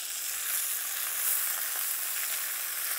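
Chicken pieces browning in a hot pan, a steady, dense sizzle with a crackling hiss that stays even and fairly loud from start to finish, with no voices.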